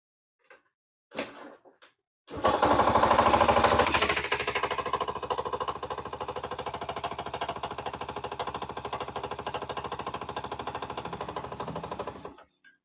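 A Yamaha Jupiter Z motorcycle engine with a knocking fault starts after a few clicks, revs loudly for a moment, then settles into a fast, rattling, hammering idle that runs close and steady until it cuts off, with no talking.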